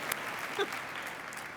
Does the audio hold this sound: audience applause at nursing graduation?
yes